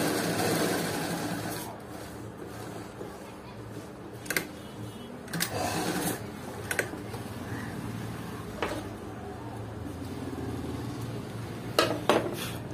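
A zigzag sewing machine stitches buttonholes with a steady close-up whirr, broken by sharp clicks and knocks from the mechanism.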